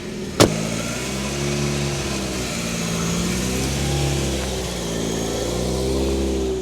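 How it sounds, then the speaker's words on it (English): A supercharged Mazda MX5 pulls away after a sharp knock, its engine droning steadily at moderate volume as it drives off. "So whilst Ryan is just driving my car up to Scrutineering"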